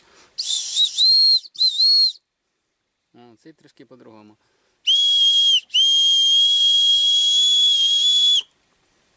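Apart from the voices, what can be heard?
willow bark whistle blown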